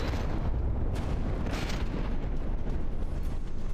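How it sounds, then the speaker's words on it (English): A battleship blows up in From the Depths, a loud, rolling explosion with deep rumble and a few sharper bursts and pops throughout, sustained and close. "Bam, that's a big explosion."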